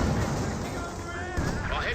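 Heavy artillery shelling pounds a base in the wartime strategy game Company of Heroes 2, a dense, continuous rumble of overlapping booms and blasts that stays loud for the whole stretch, with a fresh burst near the end.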